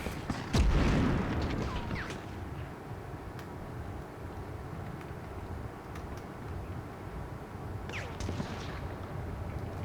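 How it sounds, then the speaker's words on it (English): A grenade goes off in the Medal of Honor video game, a single loud, deep boom early on that rolls into a long rumbling tail beneath scattered distant battlefield gunfire. "Oh, that's a grenade."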